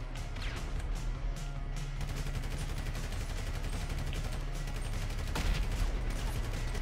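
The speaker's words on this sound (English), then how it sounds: "No, there's two shooting at me." Rapid gunfire in Grand Theft Auto 5 Online, dense repeated shots with a steady background rumble, moderately loud and continuous throughout.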